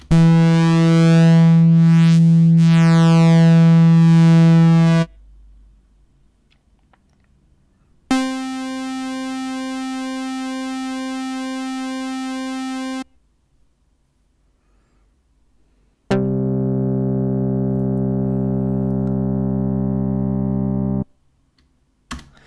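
Three separate synthesized one-shot samples triggered by MIDI, each held for several seconds with silence between: a buzzy low note, a brighter bell-like tone, then a rich mid-range note.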